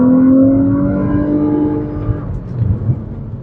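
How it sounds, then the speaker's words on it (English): A 2010 Nissan Maxima with a CVT gearbox accelerates hard, its engine holding a steady, rising drone without gear-change breaks. The roar is loud at first and eases into lower rumbling after about two seconds. "So on a full acceleration, the car will act like it doesn't even want to change gears, but it's still going to increase speed."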